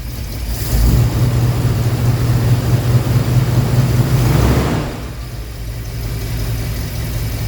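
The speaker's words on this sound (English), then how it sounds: "it looks like it settled right into its nice cold idle the way it's supposed to" A 1965 Buick Riviera engine idles after a cold start, a close, steady low rumble that sits slightly higher for several seconds before settling into a quieter, even idle.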